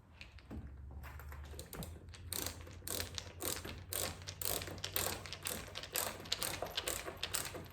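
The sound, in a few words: screwdriver driving screw for artwork hanging hardware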